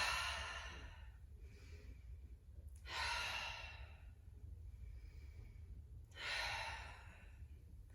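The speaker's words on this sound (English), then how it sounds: "It can be nice to inhale as you come up, exhale as you go down" Slow breathing during a gentle yoga practice, three long airy breaths drawn in and let out in a steady rhythm, close and soft, with no talking.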